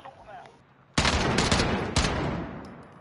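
Dense burst of video game gunfire erupting abruptly and continuing as a rapid, loud barrage with a second sharp volley partway through, after a quieter lead-in.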